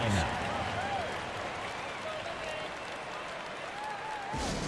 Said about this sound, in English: a big round of applause for George Dancing.